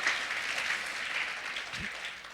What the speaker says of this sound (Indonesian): Berikan tepuk tangannya buat Tuhan Yesus.